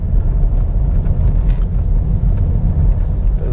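Steady, loud road traffic rumble heard from inside a moving vehicle on city center streets in Agadir, with continuous low engine and tire noise and no talking.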